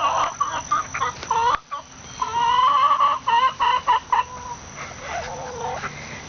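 Chickens cluck and call repeatedly in a backyard pen with fresh grass, a busy run of close, fairly loud clucks and squawks with short pauses between bursts.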